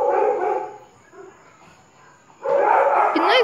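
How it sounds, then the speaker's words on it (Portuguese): A neighbour's dogs bark in a burst, go quiet for about a second, then bark again loudly, sounding fairly close with no one talking. "os cachorros começaram a latir agora."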